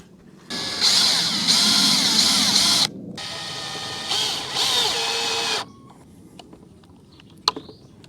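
A power drill drives 1¼ inch all-weather screws into a rain gutter strawberry planter in two loud, steady whirring bursts of about two and a half seconds each, followed by quieter handling clicks.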